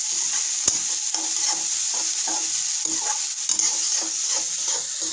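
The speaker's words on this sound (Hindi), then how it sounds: "टमाटर चलाया जा रहा है, टमाटर पूरा मिक्स कर दिया गया है।" Tomatoes frying in a pan with other vegetables for Manchurian, steady sizzling with rhythmic spoon scrapes and stirs, close and clear with no talking.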